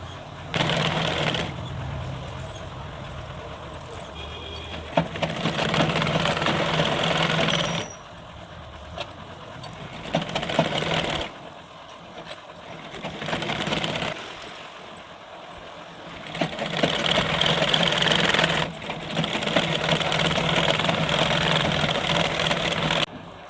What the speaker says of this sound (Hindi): पहले हम इसके ऊपर से मशीन चलाएंगे ताकि ये मेरी सिलाई एकदम बैठ जाए।